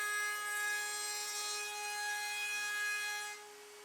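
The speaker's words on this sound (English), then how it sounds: "for the front edge I'm going to add a round over detail to both the top and bottom" Router table spinning and cutting a round-over edge along an MDF strip for wall panelling, a loud, steady high-pitched whine with a continuous cutting rasp that eases off near the end, with no talk.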